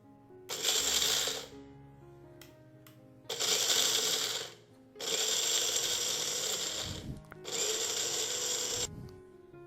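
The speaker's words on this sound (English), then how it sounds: "First we are going to grind these separately before adding the cream." A kitchen mixer grinder grinds cashew nuts into powder in four loud rattling bursts of one to two seconds each, separated by short pauses, close and alone.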